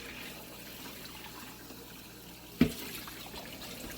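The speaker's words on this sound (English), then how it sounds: "I just like to wash everything by hand," Air fryer parts such as the drip pan are hand washed under a running tap, giving a soft steady trickle of water with one brief clatter partway through.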